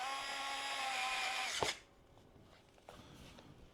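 An electric screwdriver from a 35-in-1 repair set whirs with a steady motor whine for about a second and a half, then stops with a sharp click, leaving quiet handling noise.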